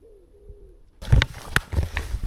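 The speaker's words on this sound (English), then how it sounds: "Just birds, mate, just birds." Birds call at a forest campsite, first a thin faint whistle, then a burst of closer cooing and chirps over rustling, all brief and with no talk.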